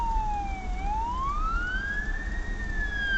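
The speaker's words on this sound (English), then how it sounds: "Uh-oh, cop car." A police car siren wails in a smooth falling-then-rising sweep, moderately close and clear over low street rumble, with no voices.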